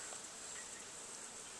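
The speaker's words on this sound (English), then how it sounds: "where we've got the bees sitting." Honeybees at apiary hives set on a platform make a steady, even hum that holds alone throughout, a dense buzzing of many insects close by.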